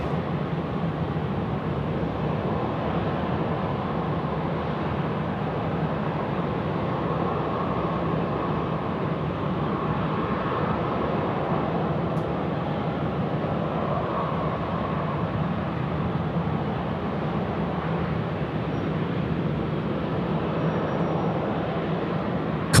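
Qantas airliner on final approach to runway 16 right at Sydney Airport, a steady broadband engine roar held at constant loudness throughout, no voices over it.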